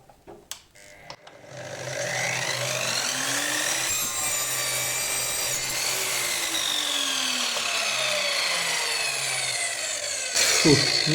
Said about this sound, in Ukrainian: Спробуємо врізати пластик.